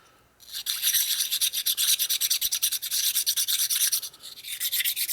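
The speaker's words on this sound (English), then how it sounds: "Take our honing stone." A honing stone rubbing back and forth on a part of a 1947 Harley knucklehead 74ci engine, steady rhythmic scraping strokes, close and loud, running continuously for several seconds after a quiet start, with no talking.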